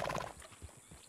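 Horse from the video game Red Dead Redemption 2 galloping, a loud burst of hoofbeats and a whinny at the start, then fainter clip-clop steps trailing off over about a second.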